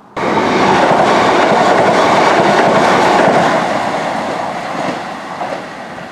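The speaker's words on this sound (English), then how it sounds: "this line used to be operated with Pacer trains" A passenger train runs along the Glossop line near Manchester, with a loud, close rumble and rolling wheel noise that slowly fades as it passes.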